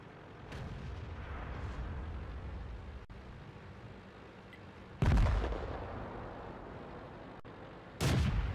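Tank cannon fire from the World of Tanks video game: two loud, sharp blasts, one near five seconds and one near eight, each ringing off over a constant rumbling battle din, with no talk.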